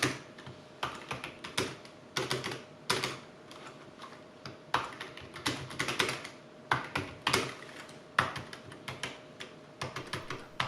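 Keys clatter on a Logitech MK215 wireless keyboard in quick bursts of typing with short pauses, close and clear, without speech.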